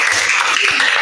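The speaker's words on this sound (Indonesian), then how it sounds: "Tepuk tangan dulu untuk kawan kita." A classroom of students claps for a classmate, dense loud applause lasting about a second without a break.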